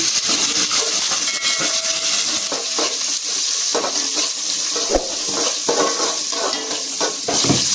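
Onions added to a hot oil tempering with garlic, curry leaves and spices fry in a loud, continuous sizzle and hiss, broken by occasional stirring scrapes and pops, with no talk.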